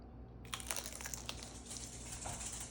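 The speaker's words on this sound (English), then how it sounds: "Ooh, that crunch." Crispy upgraded potatoes bitten and chewed up close, a quiet crinkly crunching with several crisp bites over a low steady background hum.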